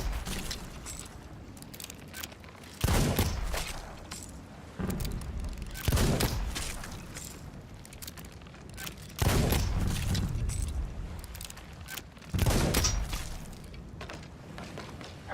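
Gunfire at a skeleton in the video game Sea of Thieves, heard as about five heavy booming bursts spaced a couple of seconds apart over a constant game ambience, with no talk.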